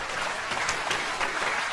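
Large theatre audience at a stand-up comedy show applauding, dense steady clapping from thousands of people filling the whole moment, loud and continuous.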